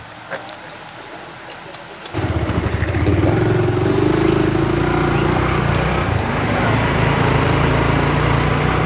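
A motorcycle engine in Honduras idles quietly, then revs up after about two seconds into a steady, loud rumble that carries on to the end.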